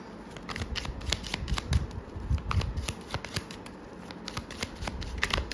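Tarot cards being shuffled by hand, a steady run of crisp riffling snaps and soft slides repeating throughout, close and fairly quiet, with no talking.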